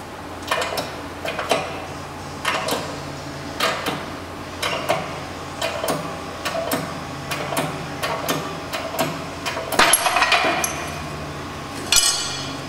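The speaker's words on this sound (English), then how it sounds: "large socket and a hammer and some controlled hitting" A hammer strikes a large 29 mm socket in a steady series of sharp metallic taps, driving out a sleeve; the blows come close and fairly loud at regular intervals, with a brief louder cluster near the end.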